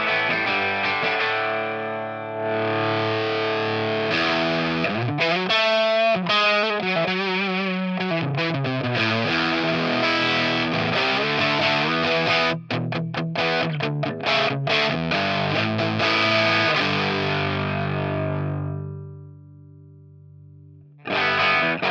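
An electric guitar played through a Hyde Street amp capture on a ToneX, with a distorted, chorused tone: sustained chords and single-note lines ring steadily, loud and close, for most of the stretch before fading out near the end.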